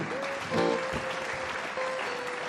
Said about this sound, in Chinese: 让我们一起掌声为他见证